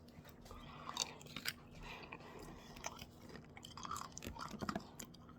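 Someone eats Dubai chocolate, with close, quiet chewing and occasional crunchy bites scattered over a low steady hum, and no talking.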